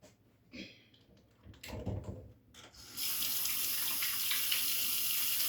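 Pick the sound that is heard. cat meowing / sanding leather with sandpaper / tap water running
tap water running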